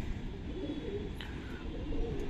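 Madrasi pigeons, including an old-style thick-nosed male, coo in a steady low murmur that runs throughout at moderate loudness, with no voices.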